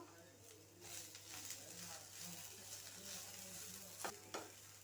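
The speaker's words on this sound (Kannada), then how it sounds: "ಕೊತ್ತಂಬರಿನೂ ಹಾಕ್ಕೊಂಡು ನಾವು ಹುರ್ಕೋಬೇಕು" Onions and coriander frying in a pan for a capsicum curd sambar, a faint, even sizzle with light stirring scrapes and a couple of sharper utensil taps near the end.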